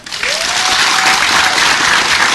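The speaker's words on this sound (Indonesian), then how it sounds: "Tepuk tangan buat Dedi Kobuser." Studio audience on an Indonesian health talk show breaks into loud, dense applause. It starts abruptly and stays steady and close throughout, with a faint voice briefly audible.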